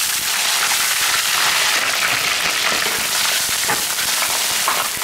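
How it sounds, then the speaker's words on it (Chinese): Ginger and scallions sizzle loudly in hot oil in a wok, a dense, continuous crackling hiss that runs unbroken throughout. "姜葱下锅炒香"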